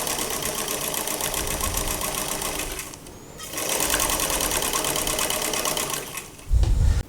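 A sewing machine stitches the length of a dress waistband, running in a steady continuous whir that pauses briefly near the middle, then resumes and ends with a low thump.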